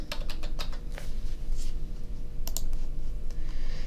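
Computer keyboard typing in a lab setting during motor proportional-control programming, with bursts of quick keystroke clicks over a steady low hum.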